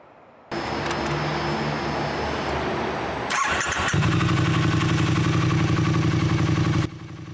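A Triumph Street Twin 900 motorcycle engine idles through its stock stainless steel exhaust, a steady close rumble that steps up to a louder, throatier drone partway through before cutting off.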